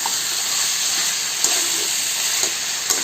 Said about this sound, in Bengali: এবার এটাকে নাড়তে থাকবো একটু, যাতে চিকেনটার ভিতরে মশলাটা চলে যায়।